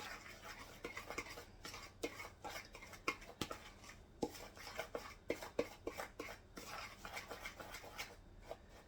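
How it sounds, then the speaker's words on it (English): A metal fork scrapes and taps against a bowl, stirring a spice mix with cheese in quick, irregular strokes and clinks, quiet and close with no talking. "Now we're going to mix those up really good with my fork."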